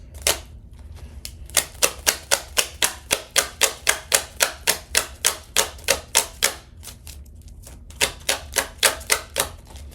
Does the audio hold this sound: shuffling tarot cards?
yes